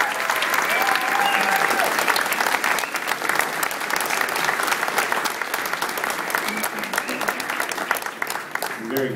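Sustained audience applause for singers at a sixth-grade graduation ceremony, a dense, steady clapping from a large crowd filling the hall for the whole stretch.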